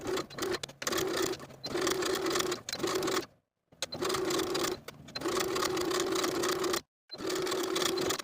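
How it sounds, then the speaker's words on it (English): A sewing machine top stitching a curved collar seam on a women's top, loud close bursts of rapid stitching broken by two brief silent pauses, with no talk. "we're going to top stitch along that curved seam line from one center front all the way around to the opposite center front"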